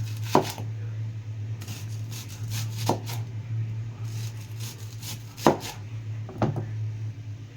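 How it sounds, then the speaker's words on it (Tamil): A knife cuts vegetables into round slices on a board, giving a handful of sharp, well-spaced chops over a steady low hum, with no talking. "எல்லாத்தையும் ரவுண்டு ஷேப்பில் தான் கட் பண்ணணும்."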